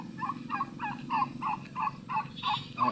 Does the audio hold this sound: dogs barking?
no